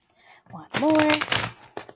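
Tarot cards shuffled in a short burst of crisp papery riffling, close and fairly loud, with a brief tonal hum over part of it and a final quick flick of cards.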